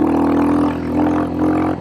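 Royal Enfield Hunter/Scrambler 350 motorcycle engine on loose gravel, a loud, close, steady throaty drone that rises and dips slightly as the throttle shifts.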